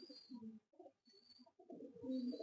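A male Chennai-line pigeon coos softly nearby in a few low, throaty rolling phrases with short gaps between them.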